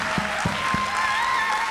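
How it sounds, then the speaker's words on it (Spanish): Audience at a student panel in Puerto Rico applauding steadily, a dense broadband clapping texture with a few louder hits, moderately close and continuous throughout. "¡Un aplauso!"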